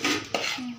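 A spoon clinks and scrapes inside a cooking pot of cucumber (dosakaya) curry with onions, one sharp metallic knock in the middle of a brief, close stir.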